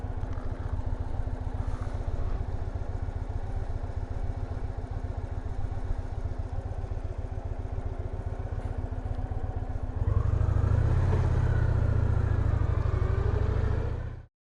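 A Victory Vision touring motorcycle engine labors steadily up a steep, loose, gravelly and rocky hill at about 1400 RPM, a continuous close rumble with clattering gravel that grows louder and heavier near the end.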